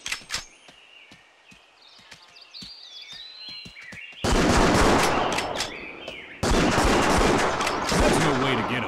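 Rifle gunshots ring out in the Wii hunting game Buck Fever, first as a string of sharp cracks over light game sounds and birdsong, then two loud blasts that each trail off into a long echo.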